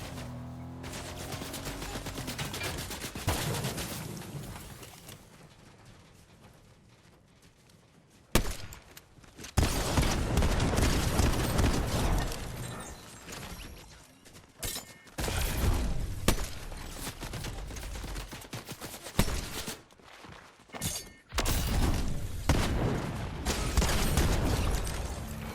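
Rapid gunfire from Fortnite Chapter 5, likely including an Enforcer assault rifle, crackles in dense bursts and sustained volleys, with a brief lull early on before loud, near fusillades resume and keep going to the end.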